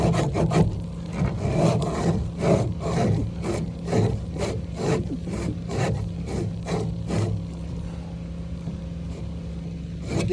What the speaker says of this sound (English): You gotta be careful with this type of saw that you don't warp it too much.